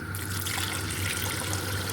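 Water poured into a yogurt-based curry in a pot, a continuous splashing, running stream, close and steady throughout.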